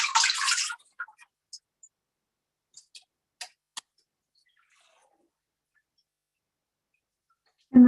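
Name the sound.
rinsing feet with a cup of clean water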